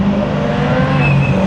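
A BMW M3 engine revving loud and close, with a continuous sustained roar and a rising pitch.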